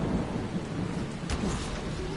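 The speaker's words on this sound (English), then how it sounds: "I do like the added effect of when the storm happens as well" A thunderstorm in the Dying Light video game brings a continuous wash of heavy rain with a low, rolling rumble of thunder underneath and a brief crackle near the middle.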